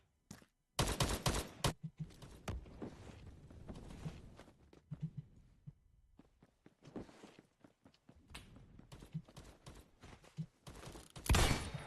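Scattered gunfire from the video game Phantom Forces, with bursts of rapid shots and isolated pops at varying distance, mixed with footsteps and quieter intervals.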